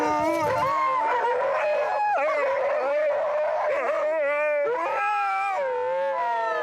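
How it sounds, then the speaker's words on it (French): Sled dogs howl impatiently in a loud, overlapping chorus of long wavering howls, some rising and falling in pitch, with occasional yips and whimpers, close by and continuing throughout. "L'impatience des chiens s'exprime par des hurlements, plus ou moins mélodieux."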